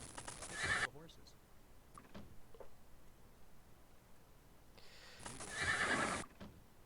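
Horses in the Might and Magic VI game give two loud, bright whinnies, one at the start and one near the end, separated by quiet ambience with faint ticks.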